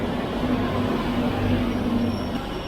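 A steady rumble of a metro train in motion in Europe in winter, with a low hum and a faint whine, heard from inside a packed car.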